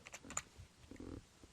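Someone types on a computer keyboard at a MATLAB and Raspberry Pi workstation, giving a brief run of soft, scattered key clicks, faint and close with no talk.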